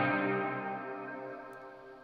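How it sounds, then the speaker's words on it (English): A guitar note rings through a Strymon Big Sky hall reverb with modulation, its long tail shimmering with a wavering chorus as it slowly decays, alone and fading over about two seconds. "You can kind of hear that you get a little bit of shimmering chorus on the reverb tail."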